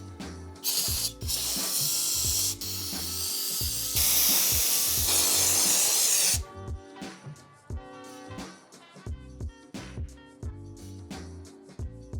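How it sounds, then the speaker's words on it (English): A torque wrench ratchets on the differential bolts of a Honda B-series transmission. Repeated close mechanical clicks come in rhythmic runs, broken midway by a few seconds of loud hissing noise. "I tried to torque the differential bolts to spec, which is 75 foot-pounds, but my torque wrench only has a single direction click"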